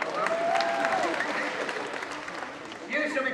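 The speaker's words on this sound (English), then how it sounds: "again, applause for his name." An audience at a Star Wars Weekends stage show claps in a dense burst, the applause fading slightly and then swelling again at the end, with voices mixed in.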